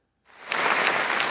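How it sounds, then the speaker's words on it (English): A studio audience breaks into clapping on request during a morning radio-style show, starting after a brief silence and swelling to steady, full applause. "can I have my claps?"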